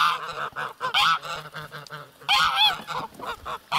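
Domestic geese honk repeatedly in a rural yard, a dense run of loud nasal calls overlapping in bursts, close by and with no talk over them.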